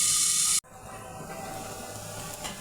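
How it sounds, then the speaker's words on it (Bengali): Potatoes fry in oil in a pan; a loud bright sizzle cuts off sharply as a lid goes on, then continues as a muffled, quieter hiss beneath the cover. "ঢাকা দিয়ে ঢেকে আলুটা ভেজে নেব তাহলে একটু তাড়াতাড়ি ভাজা হবে"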